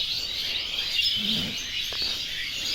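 Dense chirping of many birds fills the air in the quiet hour of dawn prayer, a steady bright chorus at moderate distance with no voices.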